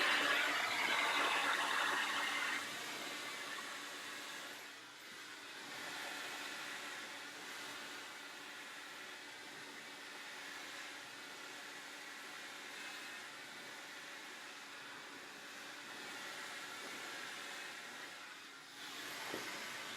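A hair dryer blows steadily on damp hair during a blow-dry, a continuous rushing whoosh that is loudest at first, then settles to a softer, even roar with slight shifts as the airflow moves.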